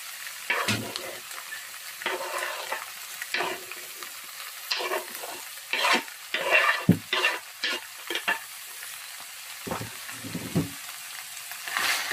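Onions frying in a pot for egusi soup, a steady close sizzle broken by repeated scraping and stirring strokes of a spoon, with no voices.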